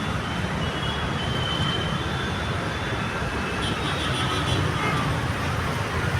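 A steady, loud rumble of heavy traffic rolls past continuously on a double-decker metro bridge, a bus engine and road roar blending into one constant wash of noise.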